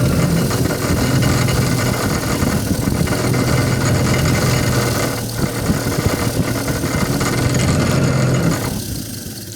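A wire wheel brushes the steel rear wheel hub of an MEV Exocet, giving a loud, steady motor whirr with abrasive scratching that runs without a break and eases off only near the end.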